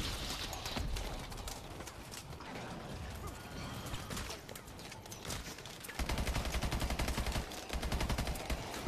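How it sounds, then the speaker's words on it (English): Rapid gunfire rattles in Call of Duty Advanced Warfare Exo Zombies, a dense stream of shots over the game's background noise, with a faster, heavier burst in the last few seconds. "I'm just gonna shoot a shitload."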